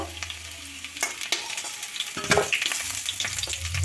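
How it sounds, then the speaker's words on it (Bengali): Boiled potatoes frying in oil in a kadai, with a steady close sizzle broken by repeated scraping strokes of a spatula stirring them; no voices. "আলুগুলো ভেজে তুলে নিয়ে তারপরে ডিমগুলো ভেজে নেব"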